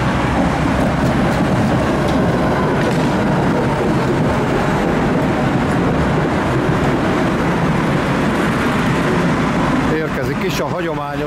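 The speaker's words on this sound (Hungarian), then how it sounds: "a hagyományos klasszik Tátra villamos" A classic Tatra T5C5 tram rolls through the streets of Budapest, giving a loud, steady rumble and rattle across the whole clip, with a burst of higher mechanical squealing near the end.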